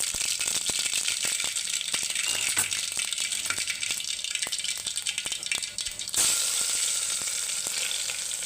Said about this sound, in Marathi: आता जिरे मोहरे टाकून घेणार आहे आणि वाटलेला लसूण